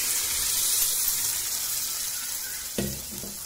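Masala sizzles loudly and steadily in a pan while cooking raw tomato bhaji, then a soft thud and splash near the end as cooked tomatoes and dal are tipped in.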